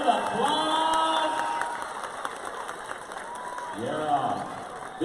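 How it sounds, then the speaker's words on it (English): A crowd at an American Indian Heritage Day celebration claps and cheers after a dance finale, with whoops over the applause and a voice talking loudly on top throughout. "Oh, big round of applause."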